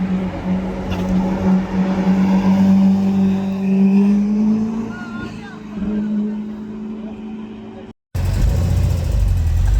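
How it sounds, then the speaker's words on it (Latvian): A Ferrari drives past on a road in Germany. Its engine drones nearby and rises gradually in pitch before the sound cuts off abruptly, then broadband road noise follows. "Redz, ka mums brauc Ferrari."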